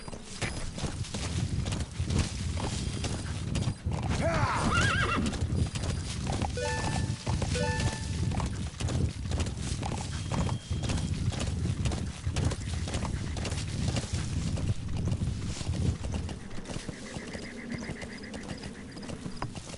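A horse in Metal Gear Solid V: The Phantom Pain clops steadily at close range over a constant background rumble, with brief game tones scattered through.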